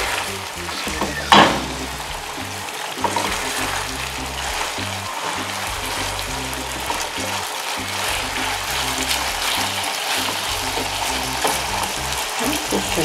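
Meat for plov sizzles and crackles steadily in a hot pan, with a brief clatter of stirring near the start.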